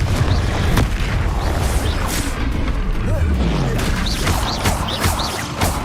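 Confringo blasting spells exploding in the Hogwarts Legacy video game, loud continuous booms and crashing impacts layered over game music and battle effects, dense and busy throughout.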